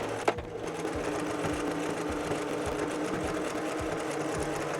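Sewing machine stitching crosshatch quilting lines through patchwork and high-loft batting on a tote bag, a steady close hum with a rapid regular needle tick, running alone and unbroken.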